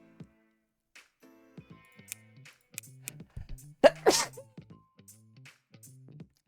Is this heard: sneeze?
yes